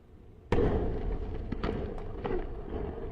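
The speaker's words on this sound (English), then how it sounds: "Jeff Bezos' Blue Origin New Glenn rocket self-detonated during a pre-launch hot fire test" A Blue Origin New Glenn rocket blows up on a Florida launch pad during a pre-launch hot fire test. One sudden, heavy distant boom is followed by a rumbling roll and scattered cracks and thuds.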